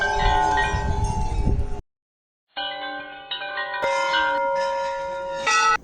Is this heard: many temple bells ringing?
yes